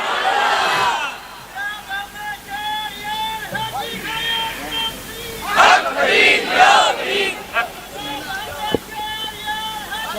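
A crowd at a religious gathering chants "Subhan Allah" back to a preacher in several loud bursts. The shouts are mixed with an amplified speaking voice and the hubbub of the gathering.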